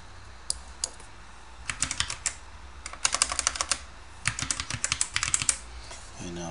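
Fingers type on a computer keyboard in irregular bursts of crisp, close key clicks with short pauses between words, in a quiet room.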